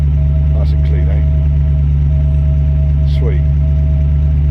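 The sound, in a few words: 1994 Range Rover engine idling burble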